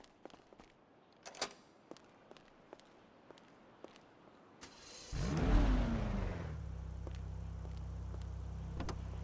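Car engine in a video game roleplay, heard first as footsteps and a door clunk, then the engine starts with a sharp rising rev and settles into a steady loud idle hum.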